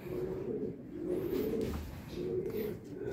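A racing pigeon at a derby in Ilagan, Isabela gives repeated soft, throaty coos close by in a short, rhythmic series.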